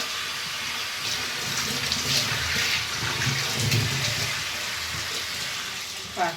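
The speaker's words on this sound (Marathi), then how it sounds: "पाणी चालू आहे." Steady rush of water running from a kitchen tap, continuous and fairly close, with a brief knock near the end.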